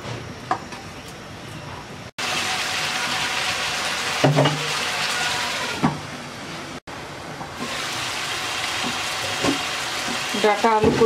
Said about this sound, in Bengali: এবার আলু আর ডাটা দিয়ে 5 মিনিট কষিয়ে নেব